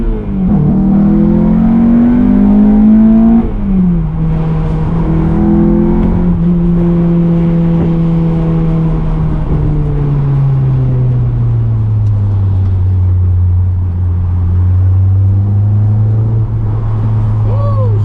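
Acura TSX engine droning steadily under a voice, pitch rising and falling with throttle, close and fairly loud throughout.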